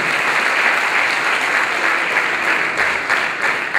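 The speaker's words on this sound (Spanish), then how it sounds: "Démosle un fuerte aplauso a ese joven de felicitaciones en el nombre de Jesús." Audience in a church giving a loud, sustained round of applause for a young man, a dense crowd clapping that carries on for several seconds without speech.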